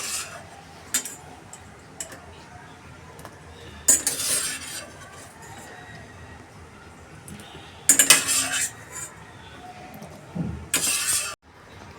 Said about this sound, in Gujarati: હવે આપણે એને પ્લેટમાં કાઢી દઈએ.